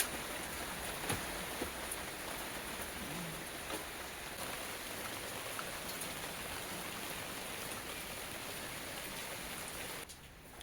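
Steady rain pours onto trays of seedlings at a Zurich allotment, a dense, even hiss of drops drumming close by for the whole stretch with no voices, easing slightly right at the end.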